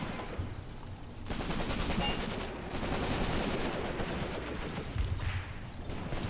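Sustained gunfire rattles through a World War II battle in the Graviteam Tactics Mius Front video game, dense overlapping rifle and machine-gun bursts crackling continuously at middle distance with occasional sharper nearer shots.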